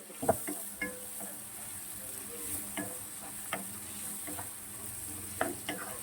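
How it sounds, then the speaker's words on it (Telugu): Onions fry quietly in a pan for khichdi, a soft low sizzle broken by a few scattered stirring clicks and scrapes at an even, unhurried pace. "ఆనియన్స్ ఎక్కువ వేగకూడదండి, కొంచెము లైట్ బ్రౌన్గా వస్తే చాలు."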